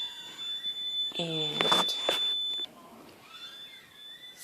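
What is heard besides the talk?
alarm beeping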